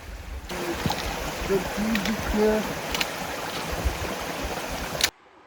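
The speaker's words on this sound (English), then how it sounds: "River crossing here." Steady rushing flow of the Minam River at a backcountry trail crossing, a broad continuous wash of water close by, with a few faint tonal chirps over it before it cuts off abruptly.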